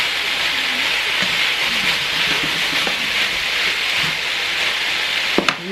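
Cabbage, pak choy and chicken stir-fry over high heat in a pan with a loud, steady sizzle. A few light clinks come near the end, and nobody talks.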